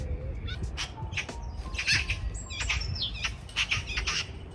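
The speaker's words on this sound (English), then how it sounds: "You can hear the angry magpie." An angry magpie squawks in harsh, repeated bursts, with other bird chirps scattered around it in a rainy spring outdoor setting. The calls are fairly near and loud.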